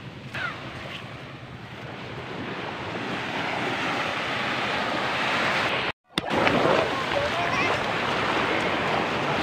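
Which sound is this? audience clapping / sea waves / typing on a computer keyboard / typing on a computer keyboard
sea waves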